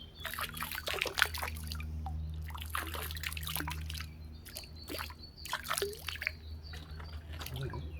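Pool algae treatment trickling from a capful into pool water, with light uneven dribbling and splashing over a low background hum, moderately quiet and close, no talking.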